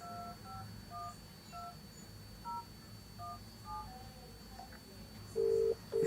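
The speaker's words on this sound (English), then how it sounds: "so I will dial that number" A mobile phone dials a GSM module's number, producing a string of short, clear DTMF keypad beeps spaced irregularly, followed by two longer tones at the end, heard alone against a faint background hum.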